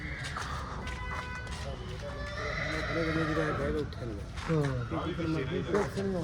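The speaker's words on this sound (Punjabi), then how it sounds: "ਆਹ ਘੋੜਾ ਕਿਹੜਾ ਬਿਮਾਰ ਹੋ ਗਿਆ" A horse in a stable whinnies with wavering, high-pitched cries under and between close, busy voices of people talking nearby.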